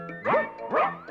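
A dog gives two short, close, yelping barks, evenly spaced, each rising then falling in pitch, heard alone with no talking.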